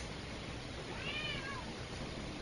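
A pet cat gives a single drawn-out, falling meow, fairly close and clear, over a faint steady background hum with no talk.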